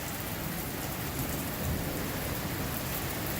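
Steady, loud rain pours outside a house during a storm, a dense, continuous hiss with a faint low rumble of thunder swelling midway, no voices.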